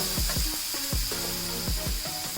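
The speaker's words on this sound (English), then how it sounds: "add the sevai and give it a quick toss" Sevai rice noodles tossed and stirred in a hot pan with lemon seasoning, giving steady close sizzling with repeated low thumps and scraping strokes from the toss.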